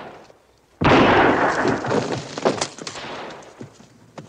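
A cannon fires at a fort: one sudden heavy blast that roars on with crackling, rumbling debris for a few seconds before slowly fading, loud with nobody talking.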